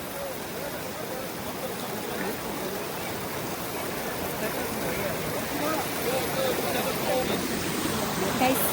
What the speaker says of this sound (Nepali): पानी नेचुरल पानी माथिबाट आएको छ